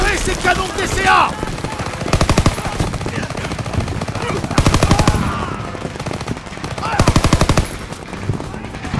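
Suppressive gunfire from a Call of Duty WWII battle, loud repeated bursts of rapid automatic fire in several volleys, mixed with shouting and battlefield noise.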